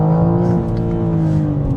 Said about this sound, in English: as you can see, I'm bouncing off the limiter and it's killing the power